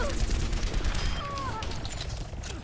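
Gunfire from the video game Overwatch, with rapid bursts of shots and busy game effects running steadily throughout, while players' voices talk over the action.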